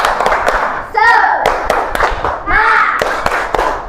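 A fourth-grade class claps a patterned spirit clap together, with sharp, loud, rhythmic bursts of hand claps broken by children's voices chanting in unison.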